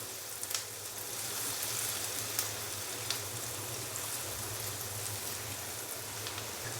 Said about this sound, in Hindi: प्याज को हम हल्का सा फ्राई करेंगे, जस्ट 1 से 2 मिनट के लिए